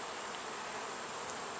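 Dense, continuous buzzing of many honeybees working pollen feeders in an outdoor bee yard, a steady close hum with no talking.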